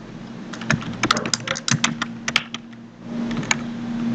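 Rapid, irregular keystrokes on a computer keyboard while Java code is typed, close and fairly quiet, bursts of clicks over a faint steady hum with a brief lull before typing resumes.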